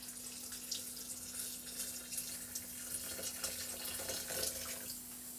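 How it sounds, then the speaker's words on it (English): Water poured from a tap into a soup pot holding broken-up stock cubes, a steady faint splashing stream with small irregular bursts, under a constant low electrical hum and no talk. "Add the water. Make sure you don't go over the line."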